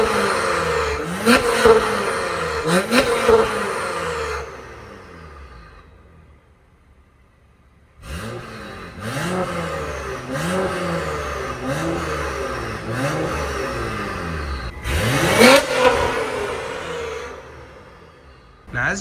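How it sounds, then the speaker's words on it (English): An Acura TLX Type S with catless downpipes, revved in comfort mode, rising and falling in repeated blips, moderately loud and close, with a quiet pause between two runs of revs. "So here's some comfort mode rev."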